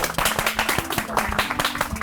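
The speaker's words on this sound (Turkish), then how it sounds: "Alkışlarla uğurluyoruz seni." Studio audience on the Turkish comedy show Bizi Güldür claps and applauds as a performer is sent off, a dense burst of hand claps under background talk and a faint tonal hum.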